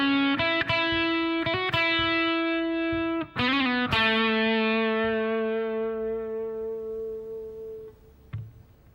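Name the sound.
guitar phrase played with distortion effect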